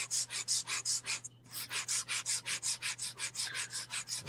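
Fine sandpaper rubbed by hand over paper for an aged ghost-sign effect, a steady rhythmic back-and-forth scratching of about twenty close, even strokes with one brief pause.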